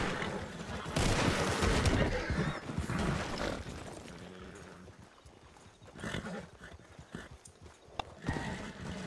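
Horse hooves clip-clop in the RedM western role-play game, with a horse snort or whinny amid broadband game noise, loud at first and fading toward the end.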